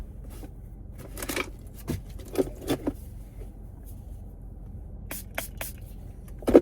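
A spray bottle spritzes cleaner onto a pair of glasses in several short, sharp hissing bursts, close by and separated by brief pauses.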